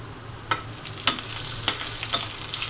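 Sliced onion, black cumin and panch phoron frying in oil to temper dal, a soft steady sizzle punctuated by sharp spoon scrapes roughly every half second.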